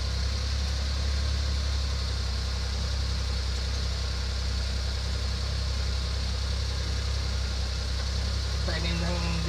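A Multicab engine runs at a steady idle while its distributor timing is being adjusted, a continuous low rumble close by with faint voices under it.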